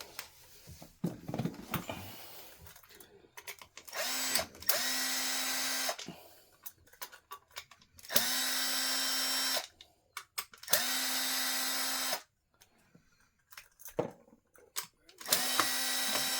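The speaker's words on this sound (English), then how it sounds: "So we will have to take these 4 Phillips heads off." A power drill backs Phillips-head screws out of a rowing machine handle in repeated bursts of a few seconds each, a steady high whine separated by short pauses and small clicks, close up and without speech.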